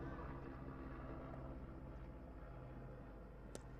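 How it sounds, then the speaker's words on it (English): A very noisy helicopter passes over a cricket ground in Portugal, its steady, low rumbling drone heard faintly at a distance throughout. "we get a visit from a very, very noisy helicopter"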